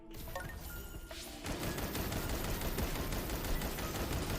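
Rapid crackling blasts burst out around the player in the bullet-heaven roguelite Apocalypse Party as the Flame Lord ability fires, a dense, continuous barrage of loud explosive pops that thickens after a brief lighter opening.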